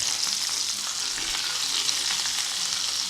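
Sliced peppers and mushrooms fry in hot oil for a stir fry, giving a loud, continuous sizzle and crackle close by with no talking.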